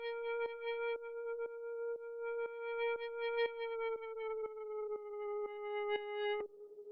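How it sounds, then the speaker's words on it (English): A sustained synthesized drone built with FM synthesis in Ableton's Operator from a sine wave, a clean steady tone with bright overtones, pulsed by regular rhythmic clicks roughly twice a second before cutting off near the end. "The first thing here is this little drone,"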